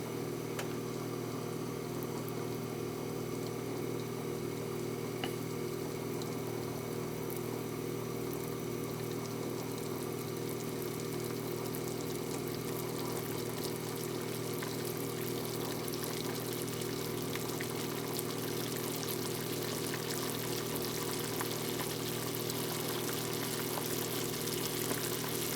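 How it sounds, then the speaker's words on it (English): Pot of water at a rolling boil for pasta, a steady, dense bubbling and hissing roar that continues unchanged throughout, close and alone. "And now it's boiling."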